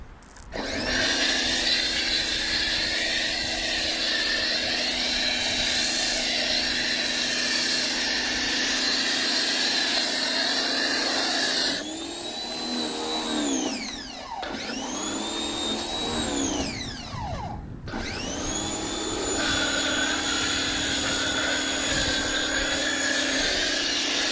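A Ryobi 1.2 gallon 1600 psi electric pressure washer whines loudly and steadily up close. The pitch dips and surges as the trigger is released and squeezed around the middle, and no one talks.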